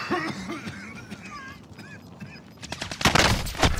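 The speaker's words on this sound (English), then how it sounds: "You got a guy to your left getting shot at." Gunfire from the video game Call of Duty Warzone crackles in rapid bursts, with louder, denser shots building toward the end amid in-game sounds.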